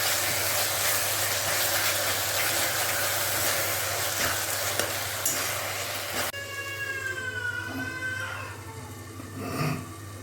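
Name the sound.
stirring fenugreek spice mixture frying in oil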